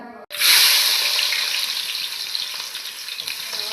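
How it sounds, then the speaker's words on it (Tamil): Mustard seeds crackle and sizzle in hot coconut oil in a large pan, with a steady, loud, close frying hiss that starts abruptly and continues throughout, with no talking. "கோகனட் ஆயில் போட்டு கடுகு போட்டிருக்காங்க"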